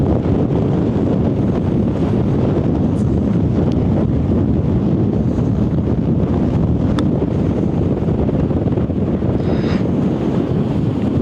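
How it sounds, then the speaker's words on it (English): Strong wind on a golf course buffets the microphone in a constant loud roar, steady throughout with no letup and only faint traces of anything else beneath it. "I'm hoping y'all can hear me with this wind."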